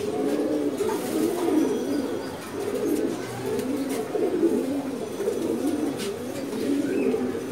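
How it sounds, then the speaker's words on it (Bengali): Pigeons coo steadily and near in a loft of Giribaz pigeons, a dense overlapping murmur of low throaty calls continuing throughout with faint chirps above. "খুবই সুন্দর কবুতর।"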